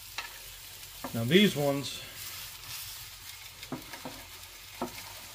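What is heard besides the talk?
bratwursts sizzling on a Blackstone griddle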